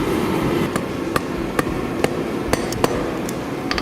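Hammer blows on a sticky platinum ingot resting on an anvil, about eight sharp metallic strikes spaced irregularly, close and clear over a steady low background hum.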